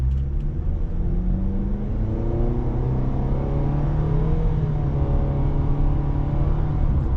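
A 2025 Nissan Sentra SV engine revs up steadily from low to higher pitch as the car pulls away from a stop, with a constant close-up cabin rumble throughout.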